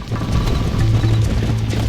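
Horse hooves in Red Dead Redemption, a steady rapid clip-clop of galloping close up, running continuously under a low game rumble.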